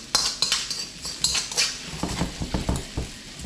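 Prawns and ingredients pushed around a pan for Filipino adobong hipon sa gata, with a spoon repeatedly scraping and clinking against the metal in quick irregular strokes under a faint sizzle.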